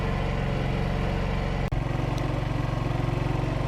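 A Cummins Onan QG2500i inverter generator runs under roughly 2100 watts of load, giving a steady low, pulsing engine drone with one brief dip partway through and no voices.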